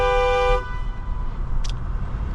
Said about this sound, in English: I want to honk the horn at them.